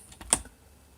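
A few light computer keyboard key taps, close and brief, with one sharper click standing out among softer strikes and no talking.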